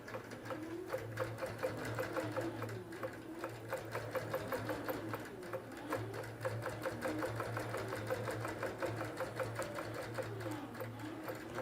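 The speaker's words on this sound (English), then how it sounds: "And while this is sewing" Automated embroidery sewing machine stitching a design, a fast steady mechanical chatter of needle strokes with a low motor hum, running continuously at close range.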